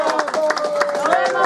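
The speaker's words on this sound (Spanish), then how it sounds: "Vamos a darle un aplauso." Brief crowd applause for a guest on a talk show, rapid dense clapping over voices speaking and cheering.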